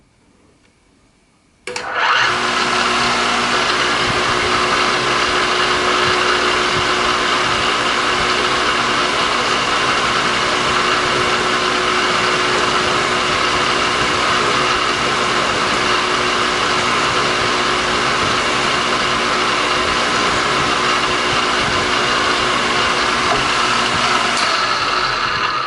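A lathe-type machine trims a saddle pipe stem tenon to length, running as a steady, loud, high whirring drone that starts abruptly and holds evenly for over twenty seconds with no talking.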